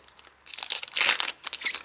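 A foil Pokémon Sun and Moon booster pack wrapper crinkling and tearing open, a short burst of sharp, bright crackles close up that swells in the middle and then fades.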